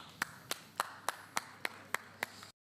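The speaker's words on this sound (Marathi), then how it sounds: "जोरदार टाळ्या डॉक्टर गिरीशोक सरांसाठी झाल्या पाहिजे." Eight evenly spaced single claps, sharp and isolated at a steady pace, ringing out alone with no crowd around them.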